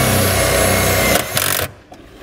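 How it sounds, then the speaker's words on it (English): A power driver with a 1/4-inch socket runs a self-tapping screw through car paneling on a 2014 Audi A4, a loud close buzzing whir that stops abruptly after under two seconds. "We're going to use the self-tapping screw that comes in the kit, and we're just going to run it through the paneling right here."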